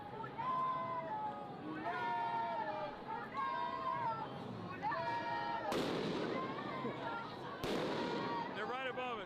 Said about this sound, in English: They're throwing flashbangs.